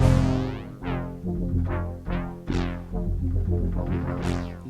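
Nord Lead synthesizer playing a basic subtractive analog brass patch in the lower register, with several sustained swelling chords and bright filter sweeps on each attack, loud and alone.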